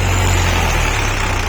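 A tractor engine runs loud and steady at high revs while hauling loaded carts uphill, a constant low rumble dominating throughout.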